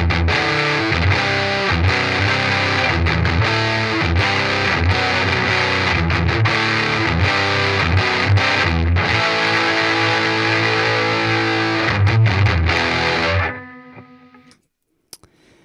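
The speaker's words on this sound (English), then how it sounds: "Nice and jangly, and then we add the HM-2." Electric guitar played through a Boss HM-2 distortion pedal, giving a loud, saturated, buzzing metal tone with continuous strummed chords for about thirteen seconds before cutting off abruptly.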